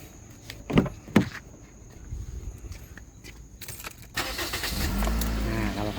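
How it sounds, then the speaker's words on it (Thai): A 2010 Toyota Corolla Altis 1.8 G automatic is started nearby: keys jangle and click in the ignition, then after a few seconds the engine cranks and catches and settles into a steady, low idle rumble. "เดี๋ยวผมสตาร์ทเครื่องฟังเสียงดูนะครับ"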